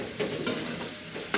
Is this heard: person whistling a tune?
no